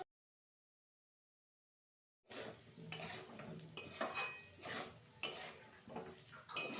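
Fried potatoes being stirred into a sizzling egg potato curry masala in a pan, with scraping utensil clatter and frying hiss starting after a silent opening and continuing steadily at close range, no talk.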